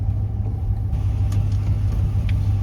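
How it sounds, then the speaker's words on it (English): Radiator fan running on a hot 1955 Ford Fairlane engine at idle, a steady close whirring hum over a low engine rumble, continuous throughout with faint clicks. "Our radiator fan just kicked in, so we're pretty hot then."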